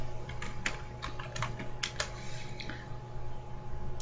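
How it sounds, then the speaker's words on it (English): Fingers type a search query on a computer keyboard, a close, brisk patter of irregular key taps with a few louder strikes over a faint electrical hum. "if you type in JPL near Earth objects"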